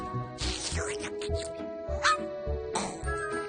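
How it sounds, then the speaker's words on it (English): A cartoon dog in a Paris fashion setting yaps, barks and whimpers in short bursts, the yelps loud and close and mixed with background score. "Bad dog!"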